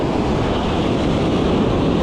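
Ocean surf at Wrightsville Beach, North Carolina, washes steadily onto the sand, a loud continuous rush mixed with wind buffeting the microphone.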